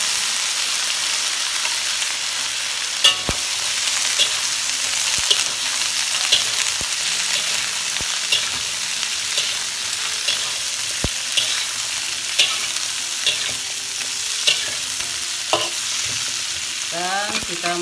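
Long beans fry in a pan with a continuous bright sizzle, broken by occasional sharp clicks and scrapes of stirring, heard alone and close.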